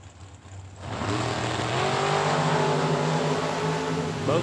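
Drag racing dragster engine at a Super Pro event, a close, loud sustained rumble that swells after about a second and then holds a steady throbbing idle, alone without talk.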